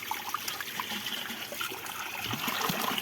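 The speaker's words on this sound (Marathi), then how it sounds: "पूर्ण कातळ दगडातून येत आहे आणि पूर्ण क्लिअर पाणी स्वच्छ" Clear spring water trickles steadily out of solid rock, a soft continuous splashing flow with no voices over it.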